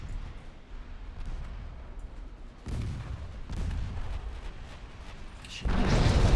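Battleship secondary guns fire in Ultimate Admiral Dreadnoughts, a few heavy booming shots over a low rumbling naval battle ambience, the last blast loudest.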